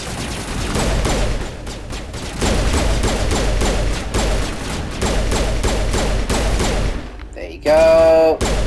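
Rapid pistol gunfire from the Mass Effect Legendary Edition video game crackles in dense, loud bursts alongside combat effects, then a short sci-fi electronic sweep near the end.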